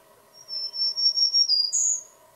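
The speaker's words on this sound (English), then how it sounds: "So listen to it singing up and down." A black-throated green warbler sings a thin, buzzy series of high zee notes that shift up and down and end on a higher note, clear and alone over a quiet low hum.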